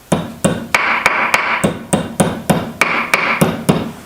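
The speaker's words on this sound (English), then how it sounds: "just put the top of your vise across the holes, just give it a slight tap." Hammer taps on a metal barrel key for a Hawken inlet, held across the top of a vise: about a dozen sharp, close, ringing metallic strikes in a steady, slightly uneven rhythm, with no talking.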